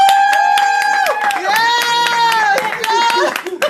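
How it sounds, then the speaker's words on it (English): A small group claps as someone walks in at a theatre read-through, sharp hand claps scattered through the clip while voices cheer and whoop loudly over them. "Let's clap when they come in."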